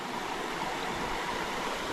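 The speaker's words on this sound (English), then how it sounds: "There's 2 water crossings of the Little Missouri." The Little Missouri River streams past a trail water crossing on the Eagle Rock Loop in Arkansas, a steady close rush of flowing water with no other sounds.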